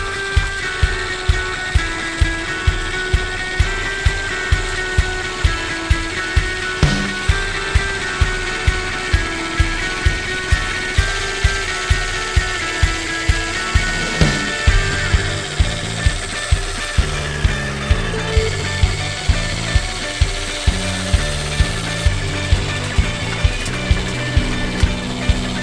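A Swardman reel mower cuts a Kentucky lawn with the height of cut set just under an inch, giving a steady, rapid rhythmic clatter of the spinning reel blades that runs loud and continuous, with no talking.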